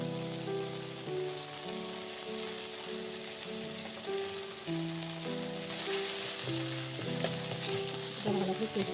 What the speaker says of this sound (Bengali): আদাটা কষা হয়ে গেছে এবার জিরে আর গোলমরিচ পাটা দিয়ে দেবো